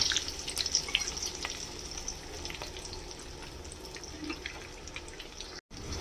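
Cumin seeds and green and dried chillies fry in hot oil for mixed vegetables, giving a continuous crackling sizzle with small spits and drips. A brief gap of silence comes near the end.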